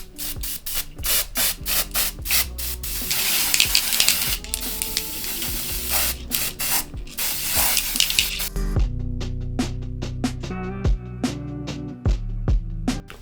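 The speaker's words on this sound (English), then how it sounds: "I'm gonna go ahead and spray some lace tint" Bursts of spray from a can of lace tint misted onto a full lace wig: a rapid series of close, sharp hissing puffs, then quieter spaced clicks and taps with no talk.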